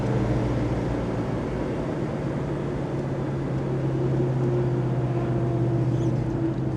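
Engine of a 1967 Chevrolet Chevelle SS convertible while driving, a steady low drone at roughly quarter throttle with constant road and wind noise, loud and close throughout, no talking.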